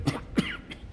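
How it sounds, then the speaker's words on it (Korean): Three short coughs in quick succession from a man preaching a sermon, close and moderately loud, the first two sharp and the last one softer. "그렇게 기침이 나와요."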